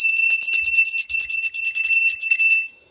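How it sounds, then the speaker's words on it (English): A small, high-pitched bell rings steadily for nearly three seconds with a bright metallic shimmer, close and clear with no talk, then fades out quickly. "I'm gonna name this Ramona's bell."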